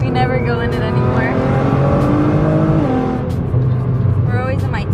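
Nissan GT-R sports car engine droning while driving, heard from inside the cabin with rising and falling harmonic tones as it accelerates, loud and continuous, with people chatting over it.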